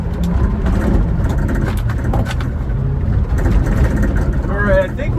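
A light Subaru Sambar mini truck drives off-road on a continuous engine and rolling drone, close and fairly loud, with jolts near the end and a voice speaking over it.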